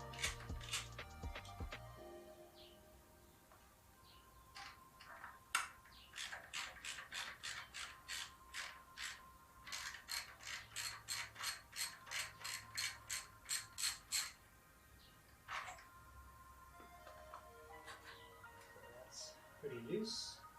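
A ratchet removes a bolt from a Yoshimura exhaust on a 2020 Triumph Street Triple RS, giving a long run of quick, even, close ratchet clicks. Quieter handling noises come before and after it.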